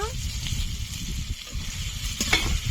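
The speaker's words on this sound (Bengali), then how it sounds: "আবারও কিছুক্ষণ ভাজবো" Soybean chunks and chopped tomato fry together in a pan with a steady, close crackling sizzle that runs evenly throughout.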